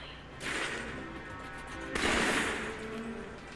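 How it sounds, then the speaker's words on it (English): Assault rifle fire in the video game Alpha Protocol, two loud bursts of gunfire, each beginning sharply and trailing into a sustained crackling roar, over a continuous background hum. "he always shoots the assault rifle in 3-round bursts"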